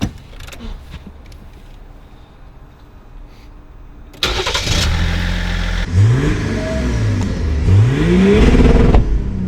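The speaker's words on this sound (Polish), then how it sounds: "To było na głośnym wydechu, nie?" A Patrol's engine idles quietly, then roars to life with a loud, throaty exhaust, revving up and down several times in rising and falling sweeps.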